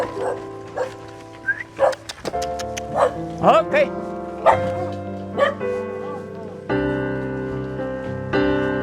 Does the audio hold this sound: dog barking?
yes